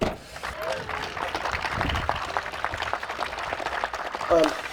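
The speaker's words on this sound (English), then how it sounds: "Another big round of applause for Mayor Josh Garcia and all the city officials" An outdoor crowd at an Arbor Day event at the Armour Yard applauds the mayor and city officials, moderately loud clapping mixed with voices and cheers throughout.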